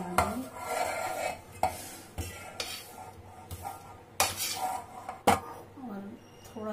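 A spoon stirs crushed Parle G biscuit powder into butter and sugar in a bowl, making close scraping and clinking strokes with sharp knocks against the sides, steady and uneven.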